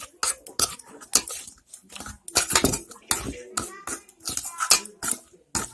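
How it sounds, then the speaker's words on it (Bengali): Hands mixing pumpkin flower pakora ingredients with turmeric and chili powder in a bowl, a run of close, irregular squishing and scraping strokes with a few sharp bowl knocks, no talking. "সবগুলো আমি এইভাবে মিশিয়ে নিব।"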